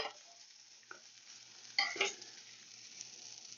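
Egg-soaked French toast cooking in a pan gives a quiet, faint sizzle, with a couple of brief utensil scrapes and taps partway through, no voices.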